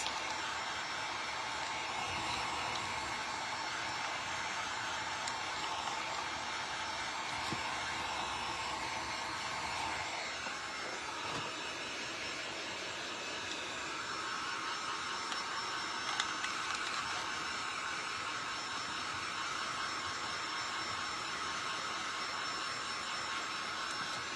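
A hair dryer blows a loud, continuous whooshing roar at close range over painted wooden Peep bunny craft pieces, its pitch shifting slightly partway through, with no talking.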